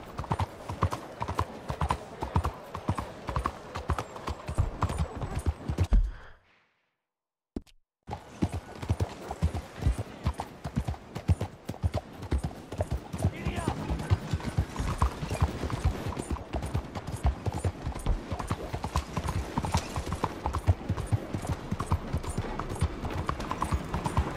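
Rapid horse hoofbeats clatter in a steady galloping rhythm in Red Dead Redemption 2, with a short silent gap before the clip-clopping resumes and carries on.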